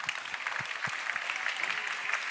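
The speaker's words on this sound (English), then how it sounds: "So please give me a round of applause." An audience at an international workplace-inclusion conference applauds in a steady, fairly close round of clapping, with a faint voice underneath.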